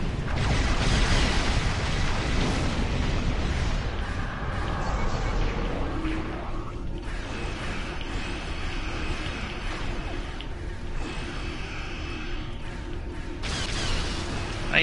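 Cannon fire and a ship blowing up in a naval combat video game, heard as a dense, continuous wash of loud booming blasts and crackling bursts layered with game noise across the whole stretch.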